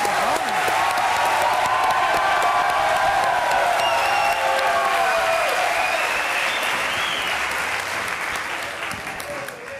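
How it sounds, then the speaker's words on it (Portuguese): A studio audience at a Galician dating show breaks into loud, sustained applause for Fátima, with whoops and voices rising over the dense clapping before it tapers slightly at the end. "Un aplauso para Fátima."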